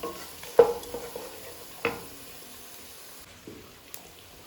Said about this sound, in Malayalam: ഇതൊന്ന് ചെറുങ്ങനെ വെള്ളുള്ളി ഒന്ന് പാടട്ടെ കേട്ടോ